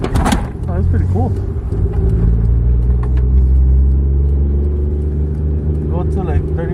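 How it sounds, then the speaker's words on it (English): Toyota Supra MK3 with a 1JZ VVT-i engine pulls away at low speed, its deep steady engine rumble continuous beneath voices chatting inside the car. "Never driven this car on the freeway with this engine."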